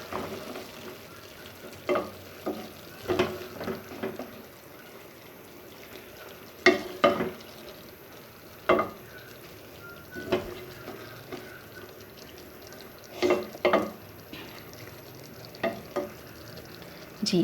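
Chicken macaroni with soy sauce being stirred in a pan, a spoon scraping and knocking in irregular bursts over a low steady sizzle, moderately close with no talking.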